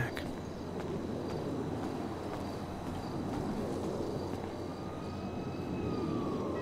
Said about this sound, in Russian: Блин, что-то куча сирен.